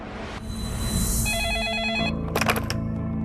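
A telephone rings with a bright electronic warbling tone in a quiet room, sounding several pulsed bursts before a short clatter as the call is picked up.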